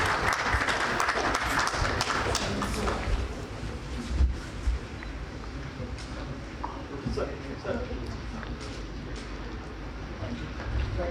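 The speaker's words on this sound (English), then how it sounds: "A huge round of applause for all of them" An audience at a panel discussion on customer experience in NBFCs and fintech gives a loud round of applause that tapers into crowd murmur, with a voice speaking over the hall.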